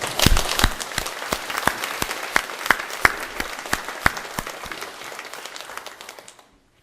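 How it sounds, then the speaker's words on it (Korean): A church congregation applauds together at a sixteenth-anniversary service, a steady round of crisp clapping from a crowd that rises quickly, holds for several seconds and then fades away. "우리 하나님께 다 같이 영광의 박수로 화답합시다"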